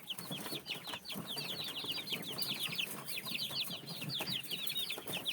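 A flock of chickens clucks and chirps continuously while pecking at lettuce, with busy, overlapping bird calls, scratching and pecking noises close by at moderate volume, and no talk.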